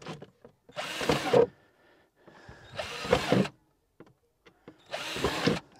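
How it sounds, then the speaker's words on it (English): Three short bursts of a power drill whirring loudly up close as it drills small holes in a plastic tub, separated by pauses with small knocks and handling sounds. "I'm just going to drill in some small holes first."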